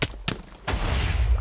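Spawn cannon in a block-building video game firing in quick blasts, two sharp booms followed by a sustained explosive roar.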